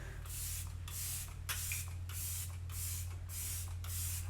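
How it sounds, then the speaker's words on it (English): Let It Set Refreshing Spray setting spray misted onto made-up skin in seven even, close hissing pumps at a steady rhythm over a low constant hum. "we're going in with Let It Set Refreshing Spray"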